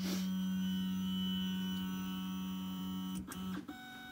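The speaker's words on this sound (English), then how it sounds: "The machine is gonna run G28, which says find X0." An MPCNC CNC machine homes its X axis, giving a loud, steady stepper-motor whine that holds for about three seconds before stopping with a couple of brief clunks near the end.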